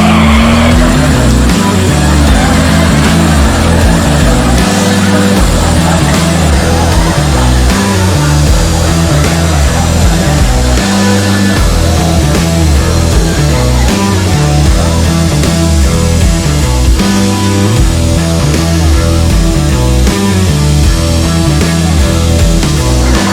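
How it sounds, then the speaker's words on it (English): Supercharged Ford F250 truck doing a smoky burnout, its engine roaring loud and close at high revs with tire squeal throughout, sustained without let-up. "see if this here truck with the power adder running can do a smoky burnout"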